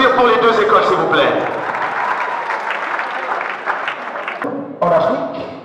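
An audience at a school debate on a common African currency claps steadily, dense applause filling the room for several seconds before tapering briefly and swelling again near the end.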